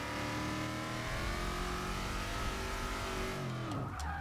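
A Ford Shelby Mustang in the racing game Forza Motorsport 6 revs hard under steady throttle, its engine drone holding loud and even, then briefly dropping off near the end.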